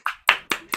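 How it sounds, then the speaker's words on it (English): A handful of sharp, separate hand claps, four quick bursts in under a second, close and fairly loud, at a storytelling event at the World Storytelling Cafe in Marrakesh. "Big round of applause."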